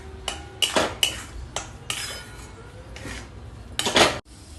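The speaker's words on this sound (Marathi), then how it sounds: "असं हे सगळं असं एकत्र करायचं आणि खोबरं पण त्याच्यात मिक्स करायचं आणि असं हलवत राहायचं" Coconut and sugar being stirred together in a pan for coconut burfi, with repeated metal scrapes and clinks of a spoon against the pan in short bursts, close and fairly quiet, no talking.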